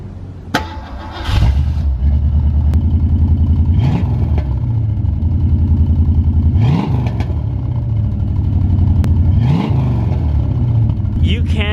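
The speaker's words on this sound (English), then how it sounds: "Get that sound anywhere else besides an old school classic pushrod motor." The 289 pushrod V8 in a 1968 Ford Mustang Fastback starts with a crank and catch, then idles loudly and rumbles nearby, with several sharp throttle blips that rise and fall over the idle.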